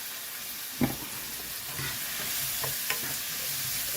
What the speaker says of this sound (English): I'll let this saute for